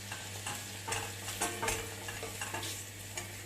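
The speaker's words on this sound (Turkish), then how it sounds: "Unla birlikte bir güzel kavuralım arkadaşlar." Flour being stirred and roasted with sautéed mushrooms for a creamy mushroom soup, a faint frying sizzle under repeated scraping strokes of a spoon in the pan, close and steady, with a low hum running underneath.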